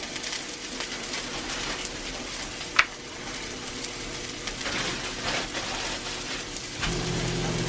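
Steak sizzling in a cast iron skillet with a little butter, a steady close crackling hiss with one sharp pop partway through, no voices.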